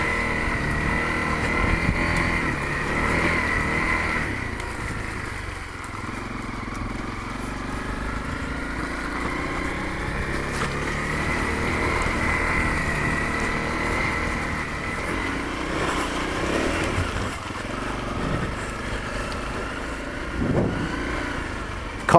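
A Honda CRF250L dirt bike runs off road while the rider feathers the clutch, its engine droning and surging unevenly at moderate distance, with a few sharper revs near the end.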